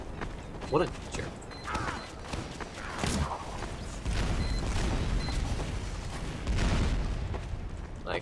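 Explosions in the video game Team Fortress 2 come as loud, sharp booming bursts that stand out against rumbling, clattering game noise for several seconds.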